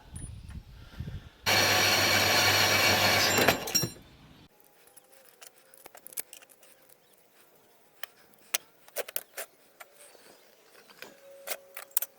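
A part for a bench vice is cut with a loud, steady burst of machine noise lasting about two seconds, followed by quieter clicks, taps and handling sounds at close range.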